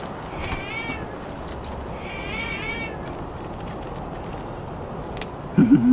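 In the video game Wasteland 3, a cat meows twice in clear, drawn-out cries a couple of seconds apart over steady game ambience, and a short voice breaks in at the very end.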